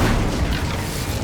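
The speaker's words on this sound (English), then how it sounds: "Incendio." A deep, rumbling whoosh of fire from the Incendio spell being cast in Hogwarts Legacy, one loud, sustained burst lasting about a second.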